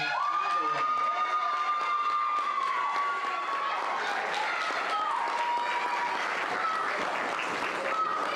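Audience at a high school senior awards ceremony applauds and cheers for the valedictorian, a sustained wash of clapping with a tonal whistle-like line gliding through it.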